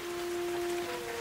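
A rain sound effect in a radio play: a steady, even hiss of falling rain with a faint constant tone running through it, continuous and close for a brief moment.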